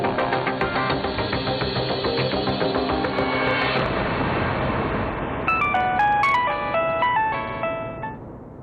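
A phone ringtone plays as a repeating electronic melody, first a steady chiming pattern, then a brighter tune of stepped notes before fading, loud and close with no talk over it.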